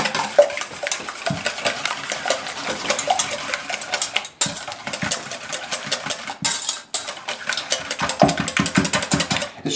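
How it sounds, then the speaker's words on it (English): A whisk beats egg yolks in a bowl with rapid, continuous metallic clattering and scraping against the sides, close and loud, with brief pauses. "take your trusty whisk and then just whisk it"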